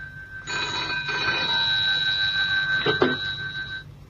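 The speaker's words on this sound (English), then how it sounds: "answered at once when the phone rang by my bedside" A telephone bell rings by a bedside at night in an old radio drama, a sustained electric ring running for about three seconds before cutting off, close and clear with no talk over it.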